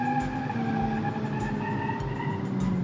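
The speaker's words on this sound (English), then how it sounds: "Third gear and wheel spin." A front-wheel-drive sport family hatchback with multi-link rear suspension spins its wheels in third gear under a steady, loud engine drone with a faint tyre-scrub edge and no talking.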